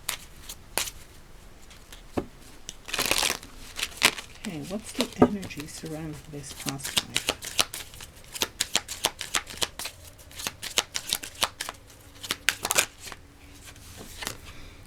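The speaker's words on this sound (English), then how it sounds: "let's get a card from the past life oracle cards." Past life oracle cards being shuffled by hand: a brisk riffle and then a run of quick flicks and taps, close by, while a voice speaks over part of it.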